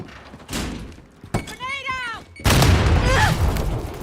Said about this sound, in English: Enemy missile.